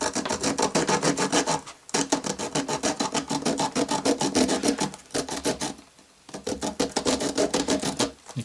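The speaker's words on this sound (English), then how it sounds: "So I'm going to just cut off the actual brush head." A paintbrush head is being sawn off with rapid, even back-and-forth rasping strokes, close and loud, in bursts with two short pauses.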